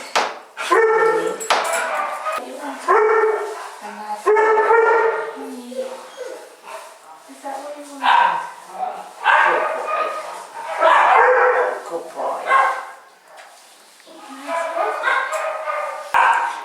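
A greyhound barks and yips repeatedly at close range, with loud, pitched vocal bursts and a few whimpering notes spread across the whole stretch.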